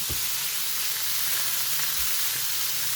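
Food sizzles steadily in hot oil on an electric griddle, a dense crackling hiss with occasional low bumps, close and continuous.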